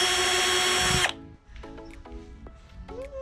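A power drill backing screws out of a Mercedes Sprinter van during interior demolition: a loud steady whine that cuts off, then several short spins and rattles of screws.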